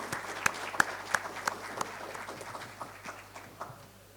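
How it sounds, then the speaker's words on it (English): Summit audience applause heard as a sparse scatter of individual claps, a handful of sharp hits early on thinning into quieter, irregular clapping, fairly faint and distant in a large hall. "Can we once again welcome all the esteemed dignitaries present on the dais with a thunderous round of applause"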